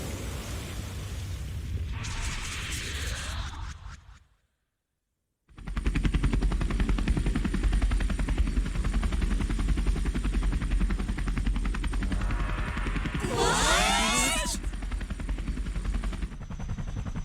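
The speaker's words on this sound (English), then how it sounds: "A helicopter." Morgana from the Persona 5 Royal video game transforms into a helicopter: an initial burst, a brief silence, then a loud, steady rotor thrum with a rising whoosh partway through.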